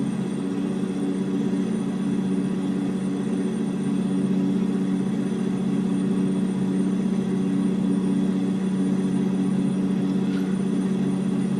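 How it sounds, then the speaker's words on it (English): A Peterbilt truck with a 600-horsepower Cat engine in a driving video game, a steady low droning engine hum with strong tonal rumble that holds constant and loud throughout, with no talking. "That is a Cat 600 horsepower engine right there,"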